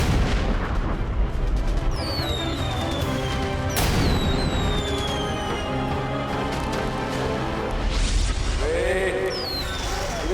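Firecrackers burst in a loud animated Diwali scene, with sharp booms and crashes over a continuous busy cartoon soundtrack, sweeping whistle-like effects rising throughout.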